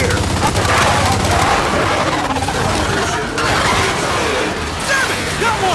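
Rapid bursts of gunfire from the Gears 5 video game, loud and sustained with dense crackling and impacts, while voices shout over the shooting.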